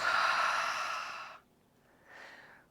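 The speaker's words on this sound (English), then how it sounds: "Inhale through the nose. Exhale through the mouth." A long, audible breath out through the mouth during a yoga flow, followed by silence and then a fainter, shorter breath.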